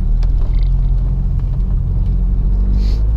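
A 1991 Renault Clio 16S engine running, a steady low rumble close by that holds at an even level throughout, with no talk.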